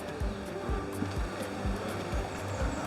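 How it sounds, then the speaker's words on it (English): River water rushes steadily in a continuous broadband roar, with soft low thumps pulsing underneath at a regular pace. "with the river rushing by"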